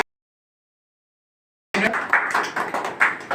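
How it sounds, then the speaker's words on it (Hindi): At a medical camp and poetry program in Vasai, near-total silence gives way after a moment to an audience breaking into lively, fairly close applause that continues to the end. "तालियां बजाइए"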